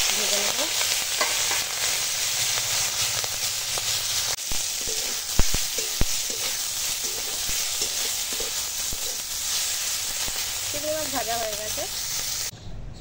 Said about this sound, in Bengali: চিংড়ি মাছের নুন হলুদ মাখা হয়ে গেছে, এবার তেল গরম হয়ে গেছে, ভেজে নেবো